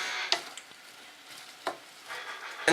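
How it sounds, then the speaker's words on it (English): Onion rings sizzle softly in a pan of oil and butter, with a few sharp scraping knocks as they are stirred and turned over. "give them a good stir to make sure every onion ring is coated with the oil and butter mix"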